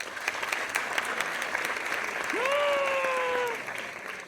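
A comedy show audience applauds steadily with dense clapping, while a loud whistle rises and holds partway through before the applause continues.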